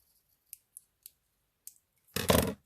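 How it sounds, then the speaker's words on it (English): Scissors snip around a paper number being fussy-cut for a belly band tag, a few faint close clicks spaced apart, then a louder rustling crunch of paper at the end. "Just going to fussy cut that out,"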